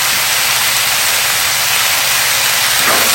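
Seasoned beef cooks in a hot pan, giving a loud, continuous hiss of sizzling that holds steady at close range with no voices.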